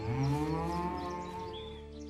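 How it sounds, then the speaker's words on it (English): A cow gives a single drawn-out moo, loud and close, its tone sliding slowly downward over about two seconds, with no talking. "That's a fine cow you have there."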